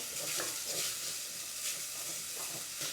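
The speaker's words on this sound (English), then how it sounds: "Just gonna brown up this sausage." Lean sausage browns in a pan with a soft, steady sizzle and hiss, faint and continuous, with light stirring now and then.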